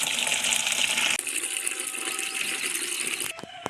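Water runs from a tap in a steady gushing stream, close and fairly loud, with the tone shifting partway through as the flow changes, followed by a few faint clinks near the end.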